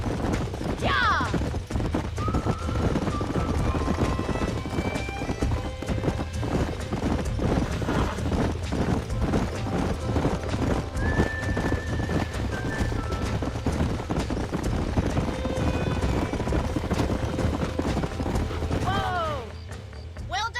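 Horses in the video game Red Dead Redemption clip-clop steadily at a gallop, with whinnies and a neigh breaking through. A voice speaks over the hooves, and the sound cuts off abruptly near the end.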